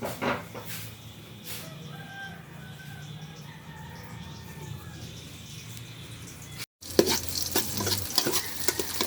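Onions stirred in a cooking pot for sopas, a soft scraping and sizzling texture with occasional clucks of chickens in the background, then a brief gap before louder clattering stirring resumes.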